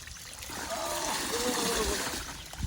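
Water from a farm borewell gushes and splashes steadily at close range, a continuous rushing pour with people talking over it.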